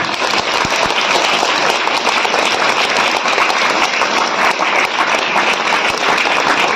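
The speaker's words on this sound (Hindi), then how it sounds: "ताली बजा दीजिए।" An audience at a Hindi religious sermon claps together on cue, a thick continuous wash of hand claps at steady loudness that carries on without pause.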